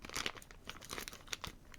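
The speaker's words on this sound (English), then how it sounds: "apparently I need scissors because it's wrapped in super titanium plastic." Crinkly plastic packaging is cut open with scissors, giving a run of dry crackling, crunching and tearing sounds close by with uneven bursts and no talking.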